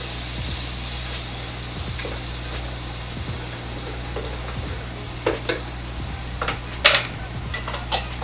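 Sweet potatoes cook alongside bacon in a pan for a Caribbean dinner, with a low steady sizzle and intermittent scraping and clinking of a utensil against the pan, growing louder toward the end.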